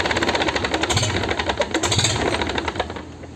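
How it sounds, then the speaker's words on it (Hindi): A freshly repaired vehicle engine runs after being started, a loud rapid mechanical knocking and chugging idle heard close up, easing slightly toward the end. "देखिए चालू हो चुका है इंजन।"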